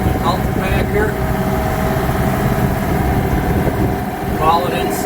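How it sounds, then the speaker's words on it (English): A tractor engine idles and runs steadily nearby, a constant low chugging drone heard throughout, with faint higher squeaks or chirps drifting over it. "now we're taking the tractor down to load up the cultipacker"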